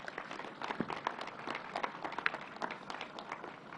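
Applause for nursing students and National Guard members at a state COVID-19 briefing, a modest, fairly faint round of clapping from a small room, steady for about four seconds with no talking over it.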